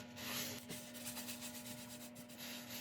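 Abrasive paste being rubbed by hand onto a burl wood turning, a soft, steady scrubbing hiss that runs close and continuous with slight surges, beneath a faint constant electrical hum.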